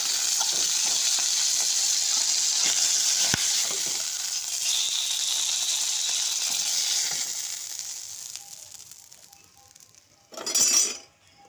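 Fish frying in hot oil for a Bengali home recipe, a steady bright sizzle that fades toward the end, with a few soft utensil clinks and a brief louder burst of sizzling near the close; no talking.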